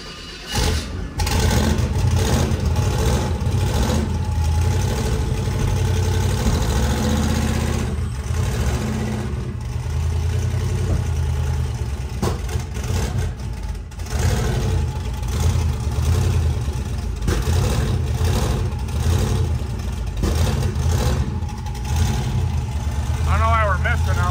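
A 1800hp twin-turbo 427ci LS engine idles and runs unevenly with occasional pops. The engine rumbles loudly and steadily while people talk over it.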